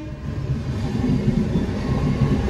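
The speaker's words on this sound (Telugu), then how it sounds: "సో గాయస్ ట్రైన్ చూపిస్తా." A train rolls past at a steady, loud level, a continuous low rumble of rail cars with faint rhythmic clatter throughout and no voices.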